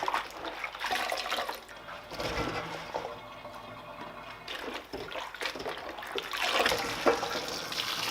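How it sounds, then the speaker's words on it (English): Salted savoy cabbage being rinsed and shaken in water, with sloshing and splashing that swells and fades in uneven bursts, close by and with no talk. "So I will rinse them now. Just slightly shake and get rid of the salt."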